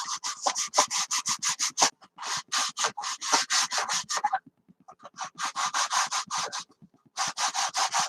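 Sandpaper rubs back and forth on a plastic part from a 1/72 vacuform Hawker Siddeley Nimrod model kit, close and crisp in quick rhythmic bursts of strokes separated by short pauses.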